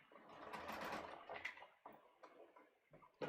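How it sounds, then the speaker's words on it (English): A sewing machine stitches dress fabric, faint and close, in a quick rhythmic run that stops and restarts in short bursts. "So now I'm going to be back in the middle. And I'm just going to sew here."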